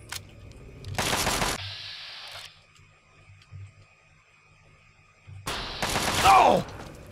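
Gunfire from the video game Fallout 3: two dense bursts of rapid shots, one early and one near the end, separated by a quieter stretch with a sustained tone and faint low rumbles.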